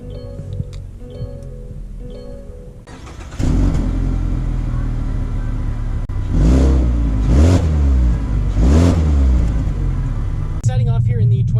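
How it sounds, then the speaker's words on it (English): A 2019 Mazda 3 all-wheel-drive hatchback pulls away, its engine note swelling into a steady, loud rumble as it gathers speed, with someone talking over the drive. "Let's take the new Mazda 3 all-wheel drive out for a drive just to see how it drives and handles"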